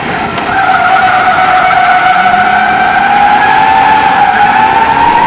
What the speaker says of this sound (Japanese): The King checks out its drifting performance.